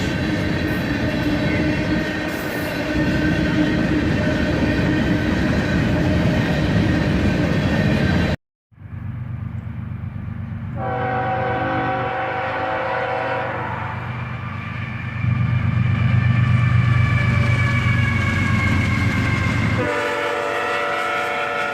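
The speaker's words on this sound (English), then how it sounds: "And another NS train here, with an ET44 AC, an SD70 Ace, and a Dash 8" A Norfolk Southern freight train led by ET44AC, SD70ACe and Dash 8 locomotives rumbles past loudly and close, with engine drone and horn-like tones, a brief break, then continued rolling roar and wheel noise.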